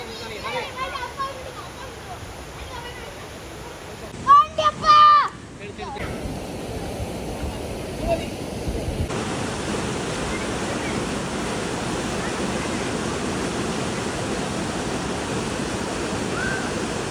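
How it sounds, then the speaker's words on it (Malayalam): Clear, fresh water pours down a waterfall near a homestay in Kollamkode, Palakkad, making a steady broadband rush throughout. Voices and a brief louder splash come early, then the roar continues evenly on its own. "വെള്ളച്ചാട്ടവും നല്ല തെളിഞ്ഞ വെള്ളം കേട്ടോ"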